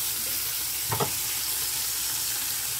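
Tomatoes are crushed in a hot frying pan before eggs go in for breakfast scrambled eggs, giving a steady, close sizzle throughout and one brief soft thud of mashing near the start.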